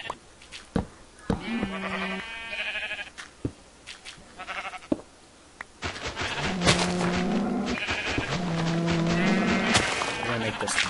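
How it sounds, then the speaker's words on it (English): Minecraft sheep give several short bleats scattered among game sounds, block-breaking taps and clicks, with players talking throughout. "Sheep spawning. Get out of here, sheep."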